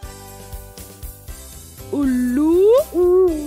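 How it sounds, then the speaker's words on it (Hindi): An owl hoots in two drawn-out, wavering calls, loud and close, laid over light background music in a children's educational programme. "उल्लू,"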